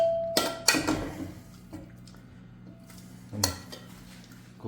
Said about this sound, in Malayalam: അപ്പോൾ നമ്മൾ കുക്കറിലോട്ട് ഇടുകയാണ്.